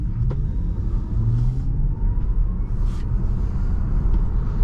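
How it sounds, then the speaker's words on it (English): 2023 Tesla Model Y accelerating hard from a stop, heard from inside as a steady low road rumble and whoosh that holds throughout, with no engine revving and no talking. "we're gonna do a full acceleration from a stop here."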